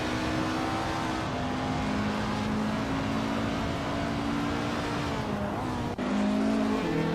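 A 1953 Cooper T23 race car on a tight, technical circuit, engine droning steadily at high revs with shifting pitch, near and loud, briefly dipping then surging back.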